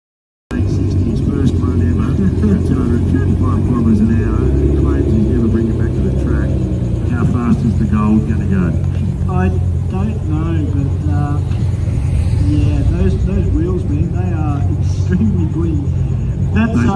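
A Nissan GT-R race car at Heathcote Park Raceway gives a loud, steady engine roar and rumble throughout, with voices blending into the continuous drone.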